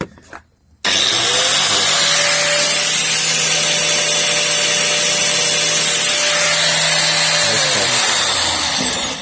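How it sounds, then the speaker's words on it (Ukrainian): An angle grinder runs on 220 V inverter power drawn from a Nissan Leaf's battery. It starts abruptly and holds a loud, steady high whine for several seconds before beginning to spin down, with no talk. "Ми вмикаємо болгарочку."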